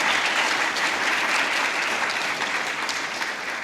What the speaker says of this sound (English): So let's have a round of applause for Leah, what she's done over here.